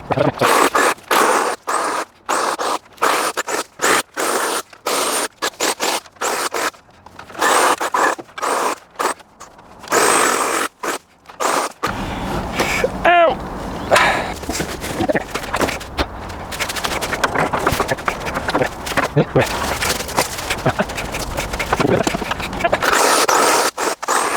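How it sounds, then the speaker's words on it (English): Branches being trimmed off a garden tree, a run of sharp rhythmic cutting and rasping strokes close by, followed by steadier rustling and scraping of foliage. "we're going to trim a bit more off this tree"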